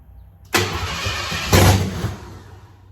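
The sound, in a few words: car engine starting and running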